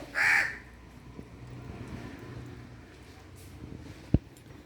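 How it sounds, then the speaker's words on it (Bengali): A single loud crow caw rings out at the start, followed by quiet outdoor background and a sharp tap near the end. "কাকটা কেমন দাঁড়িয়ে দাঁড়িয়ে কা কা করছে দেখো"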